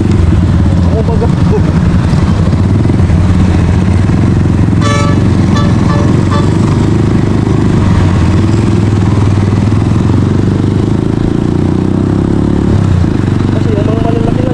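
A motorcycle rolls along steadily with its engine droning loud and close throughout, a brief horn-like toot cutting in midway, and a rider's voice talking over the ride.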